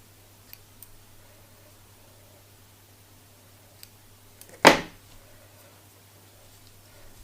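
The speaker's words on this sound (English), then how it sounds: "I'm just going to trim those ends off" Scissors snip loose wool ends on a needle-felted animal face, a single sharp close cut standing alone in a quiet room after a few faint ticks.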